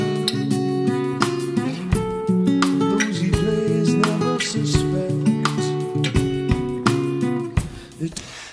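A riff played with syncopated rhythm, anticipated bass notes and spread triad voicings, sounding as a steady, full pitched pattern with sharp chord attacks recurring throughout, alone with no talk.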